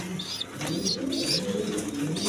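Pigeons in a healthy breeding pair coo softly in repeated low murmurs, close by, with faint chirps over a steady background.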